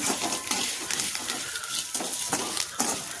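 Curry leaves, tamarind and asafoetida are sautéed in a pan for curry leaf chutney, with repeated scraping and stirring strokes over a soft sizzle and no voices.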